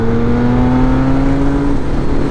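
An old Triumph 675 three-cylinder motorcycle engine runs loud and close with a smooth, steady drone, its pitch easing slightly before settling.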